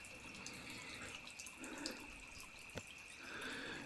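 Faint, steady trickle of fresh water flowing continuously from a forest spring source in an Uttarakhand village, a soft constant stream with a couple of small drip-like plinks and no talking.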